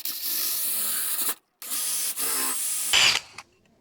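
Power drill boring an angled pocket hole into wood freehand, without a jig: two close, loud bursts of whirring grind separated by a brief pause, ending in a short rising whine.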